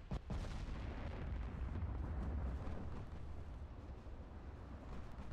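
Heavy naval gunfire from a cruiser's 8-inch guns in the Ultimate Admiral Dreadnoughts warship game, a sharp opening blast rolling into a continuous deep, rumbling roar of distant artillery that stays dense and loud throughout.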